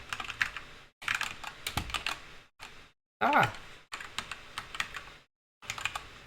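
Fingers type on a computer keyboard with home and page up and down keys, giving close bursts of rapid clicking separated by brief silences, and someone speaks briefly in between.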